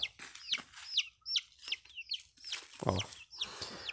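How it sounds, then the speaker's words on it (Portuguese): Chickens on a farm in the Ceará backcountry clucking in a quick series of short, close calls, with a few louder squawks and faint background noise between them. "As galinhas aqui, ó."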